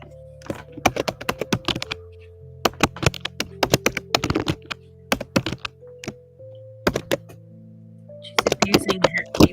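Someone types hard on a computer keyboard, loud sharp clacking strokes in rapid bursts separated by short pauses, over a faint steady background hum.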